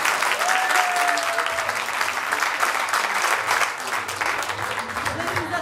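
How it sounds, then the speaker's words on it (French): A concert audience applauds a band: loud, dense, steady clapping that fills the whole stretch, with a brief whistle near the start and faint cheering mixed in. "Alors, on peut les applaudir d'avance,"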